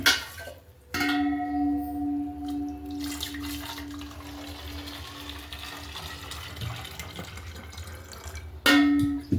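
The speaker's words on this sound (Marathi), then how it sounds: "फटाफट पाणी भरून घेतो" Tap water fills two bottles one after another, starting abruptly as a steady rushing stream with a resonant ringing tone. It runs for several seconds, then a second loud burst comes near the end.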